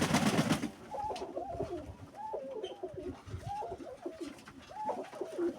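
Pigeons coo repeatedly in soft, rolling phrases at a moderate distance, after a brief burst of noise at the start.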